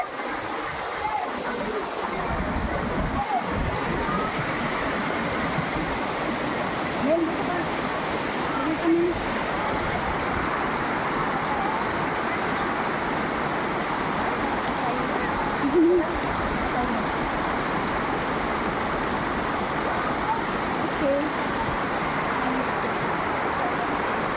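Water in an outdoor nature setting rushes in a steady, broadband flow, loud and constant for the whole stretch, with a few brief faint sounds over it and no clear speech.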